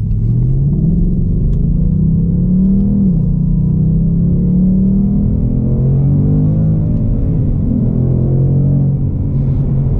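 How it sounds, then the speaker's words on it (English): A 2021 Ford Mustang Mach 1 in track mode pulls through a light acceleration on a public road, its deep engine rumble rising in pitch, dropping at a manual gear shift, then climbing again, loud and steady throughout. "I'm just gonna put it in track mode and do a light acceleration just so you guys can hear"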